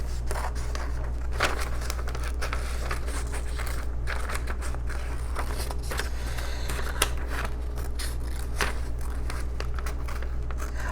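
Scissors snip through paper to cut out a colored drawing, giving quiet repeated clicks and crisp rustles over a constant low hum, close and fairly faint, with no voices.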